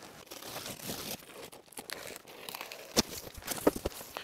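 Packaging around a Mecpow X4 Pro 22 W laser engraver crinkles, rustles and tears as it is unboxed, close and fairly quiet, with a couple of sharper crackles toward the end.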